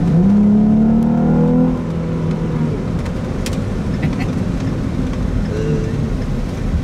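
A naturally aspirated car with no turbos and a K&N air filter drives along, its engine note strong and rising at first, then settling into a steady, rougher drone for the rest of the stretch.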